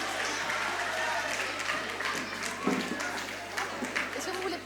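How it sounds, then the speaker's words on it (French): Audience applause at a school award ceremony for a pleading competition, steady clapping from a hall full of people throughout, with voices mixed in. "vos professeurs, s'il vous plaît, qui méritent un tonnerre d'applaudissements"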